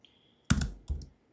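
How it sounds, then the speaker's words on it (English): A Mac keyboard typed on in Terminal: two quick bursts of close, crisp key clicks separated by a short pause, with near silence before them. "I'm going to type in wget"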